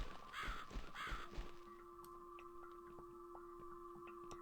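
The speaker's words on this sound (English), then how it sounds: "It was a crow." Crow in The Cat Lady game giving a couple of loud, harsh caws close by, followed by a quieter eerie ambience with sustained tones and faint scattered sounds.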